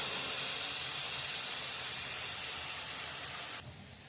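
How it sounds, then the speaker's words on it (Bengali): Onions fry in a pan beside hilsa fish, a steady close hiss of sizzling oil that drops off abruptly at the end. "দুদিকে পেঁয়াজটা ভাজা হচ্ছে"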